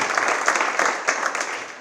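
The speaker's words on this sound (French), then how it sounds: "Et le CA, on peut les applaudir s'il vous plaît." Festival audience at a round-table event applauding, brisk overlapping claps forming a continuous wash of sound with no voices.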